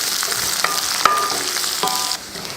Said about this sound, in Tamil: வெங்காயத்தை போட்டு லைட்டாக வதக்கிடலாம்